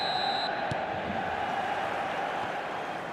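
Stadium crowd ambience in the eFootball PES Mobile football game, a steady distant roar of fans on a clear night with a brief tone at the start.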